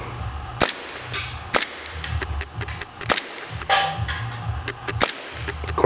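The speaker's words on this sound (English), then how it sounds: "But get a load of the action working." A Commander model 1911 replica pistol cycling its action as it is fired, giving sharp, near snapping cracks at irregular intervals over a steady low rumble.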